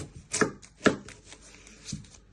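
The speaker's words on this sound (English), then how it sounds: "Then you chop it down the middle." Three sharp knife chops on a cutting board halve a vegetable lengthwise, each a crisp close thunk followed by a pause, the third a little softer, with no voices.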